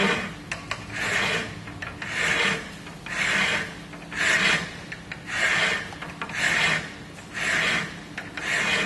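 A hand file rasps across a metal workpiece clamped in a vise, eight or nine steady rhythmic strokes about a second apart, close and clear with no talking.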